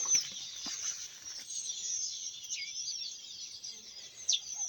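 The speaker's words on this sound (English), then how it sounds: "you can hear the sound of the birds" Birds sing and chirp steadily in the background on a farm in Ghana, bright high calls layered over one another with a few sharper notes, fairly faint and distant.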